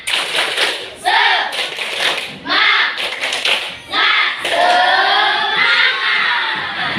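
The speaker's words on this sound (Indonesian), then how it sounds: "kita tepuk semangat dulu ya. Tahu? Tahu. Tepuk semangat." A group of children clap in rhythmic bursts and shout together in a loud 'tepuk semangat' spirit-cheer chant, with brief pauses between rounds.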